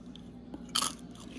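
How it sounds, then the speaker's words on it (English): A single sharp crunch of teeth biting through a thin homemade potato chip, close and fairly quiet, with a faint chewing tick just before it. "You hear that crunch?"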